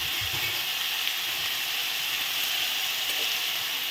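Cauliflower frying with turmeric in hot oil in a home kitchen: a steady, soft, broadband sizzle with no talk, even and unbroken from start to finish.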